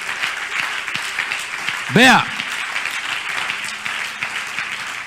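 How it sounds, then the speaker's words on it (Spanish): Applause from a church congregation during a sermon, a steady bed of clapping under a brief spoken word and a short, rising vocal exclamation in the middle. "Dele el aplauso al Señor."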